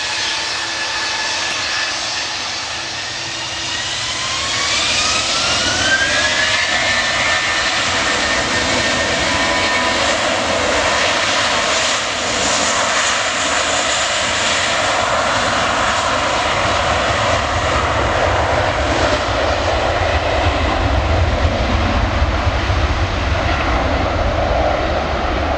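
A Lufthansa airliner takes off from the runway at Manchester Airport, its jet engines roaring loud and building steadily, with a rising whine early on and a sustained, rumbling thrust that carries through to the end.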